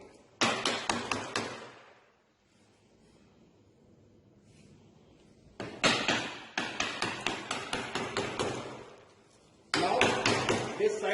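Hammer blows strike a wooden workpiece in loud, rapid bursts of sharp knocks, with a quiet pause between groups; a voice is faintly present underneath.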